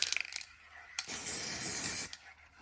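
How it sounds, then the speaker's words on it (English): A spray can of paint hisses in one steady burst lasting about a second on a car's repaired, welded guard, preceded by faint clicks and rattles. "Yeah, loves a spray can."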